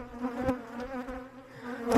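Honey bees buzzing steadily nearby around a hive in autumn, a dense droning hum with a few louder passes close by.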